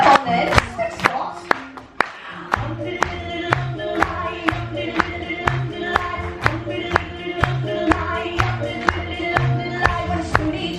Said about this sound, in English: if everyone in the room would clap their hands